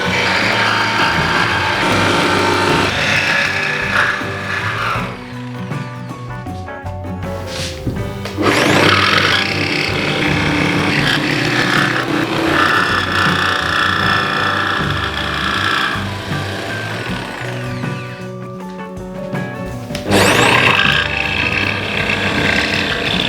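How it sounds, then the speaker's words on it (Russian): A wooden cutting board blank is cut from solid wood with a power saw, a loud, steady buzzing roar that carries on for the whole stretch, dipping briefly and rising again. "Отпиливаем нашу следующую будущую доску."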